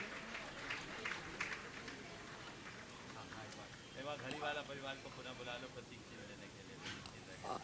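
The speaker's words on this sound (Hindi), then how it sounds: "जोरदार तालियों से उनका स्वागत अभिनंदन कर दें।" Audience applause welcoming newly appointed trustees at a Jain religious discourse gathering, a dense sustained patter under and alongside a speaking voice.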